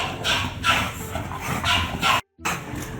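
A female American Bully dog gives a few short, close whimpering yips and soft barks in quick bursts, with a brief silent gap near the end.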